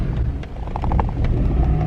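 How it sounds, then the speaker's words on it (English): A car engine on the way to the gym nearly stalls, its low rumble loud and close with uneven sputtering pulses and a brief falter in the middle, no voices over it. "I nearly stalled the car"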